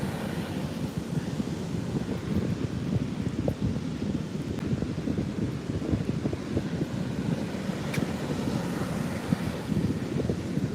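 Ocean waves rolling in on a beach as the tide rises, under a red surf warning, a continuous rough wash of surf mixed with gusty wind noise, with no voices.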